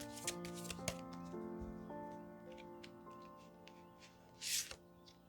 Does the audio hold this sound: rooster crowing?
no